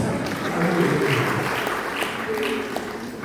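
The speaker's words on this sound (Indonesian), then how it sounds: "kita lanjut tepuk tangan bagi Tuhan Yesus" A church congregation at a Sunday service claps for Jesus, a thick continuous patter of hands with voices mingled in, moderately loud and steady across the short span.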